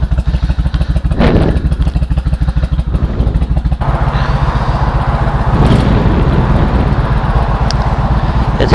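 A Honda Shadow 1100 Aero motorcycle runs close by, its engine and exhaust giving a loud, steady, lumpy throb with rapid pulsing firing beats and occasional clattering knocks.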